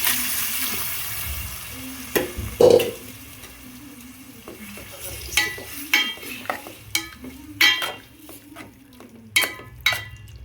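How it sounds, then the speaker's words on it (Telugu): Boiled tripe (boti), cooked with salt, turmeric and onion, goes into a pan and is stirred, giving soft wet sizzling and repeated stirring scrapes and clinks at an irregular rhythm, fairly close and alone. "నెక్స్ట్ ఏంటంటే మనం ఇందులో వేసుకుంటున్నాను అన్నమాట బోటి"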